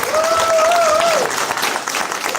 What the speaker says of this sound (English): So I'd like to give a massive round of applause and say welcome, Martin Leaker.